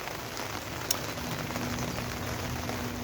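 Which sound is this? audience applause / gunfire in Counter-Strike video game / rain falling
rain falling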